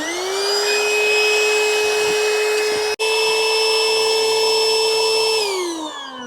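Electric air pump inflating the leg-rest section of an inflatable car air bed, a loud steady whine and hum running for about six seconds with one brief cutoff midway, then easing down at the end.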